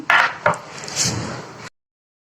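A knife thuds twice against a board, then saws and scrapes through a whole goat leg in one drawn-out cut, close by, before falling silent.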